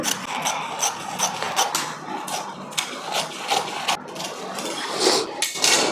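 Silk saree fabric being cut for a blouse sleeve, heard as repeated close crisp snipping and rustling strokes in an uneven rhythm, without any voices.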